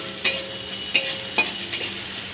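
Vegetarian pea curry with asafoetida being stirred in a pan, four sharp spoon scrapes spaced through a faint steady sizzle.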